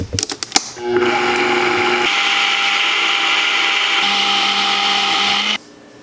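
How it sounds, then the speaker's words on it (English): A blender whirs through tofu and sugar, loud and steady after a few sharp knocks at the start, its motor pitch shifting partway through before it cuts off to quiet. "So it's finished blending."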